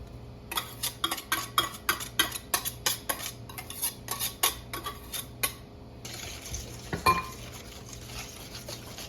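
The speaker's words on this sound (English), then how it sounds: "Give it a good stir" A utensil stirs yeast mixture into bread dough in a bowl, giving a quick run of clinking, tapping strokes against the bowl that slow and fade, then a softer scraping stretch near the end.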